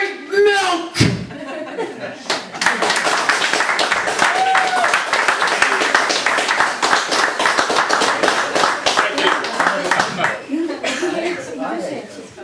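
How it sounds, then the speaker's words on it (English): Audience applause in a live performance setting, a lively round of clapping with some laughter and voices mixed in, rising quickly and tapering off near the end. "More applause, please, for Keith Drake."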